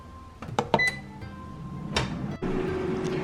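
Air fryer control panel beeps as temperature and time are set for cooking pork katsu cutlets, a few short clear tones near the start amid faint kitchen clatter and a steady hum.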